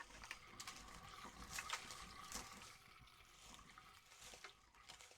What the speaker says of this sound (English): It almost sounds like water going down a drain.